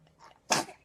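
A single sudden sneeze, short and sharp, heard at moderate distance after a faint breathy intake.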